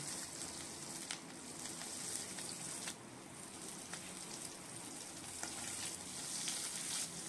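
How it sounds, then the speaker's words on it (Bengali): Nigella seeds and four green chillies tempering in hot oil in a kadai give a steady, close, dense sizzle with fine crackles throughout, with no talking. "তার জন্য আমি কড়াইতে তেল দিয়ে তার মধ্যে কালো জিরে আর 4টে কাঁচা লঙ্কা ফোড়ন দিলাম"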